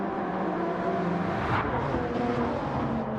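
A sim race car in a Toyota multiclass league at Watkins Glen drones steadily at close range as it swerves into pit lane, its engine tone shifting slightly midway.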